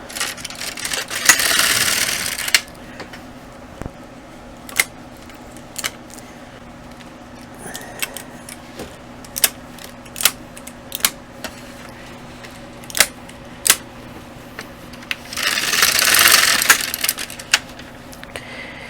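An LK 150 knitting machine carriage pushed across the bed for two rows, two loud rasping sweeps at the start and end with scattered sharp mechanical clicks and ticks between, close and alone.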